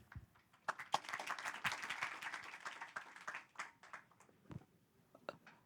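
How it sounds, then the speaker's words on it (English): An audience applauds at a law conference session in Jakarta, with a burst of clapping that swells, holds steadily for a few seconds, then thins into scattered claps. "Let's give this last round of the day a more thunderous applause, please."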